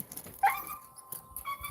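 A dog gives a short yip and a thin whining whimper, close by and fairly quiet, with a couple of brief high cries.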